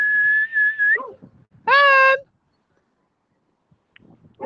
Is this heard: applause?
no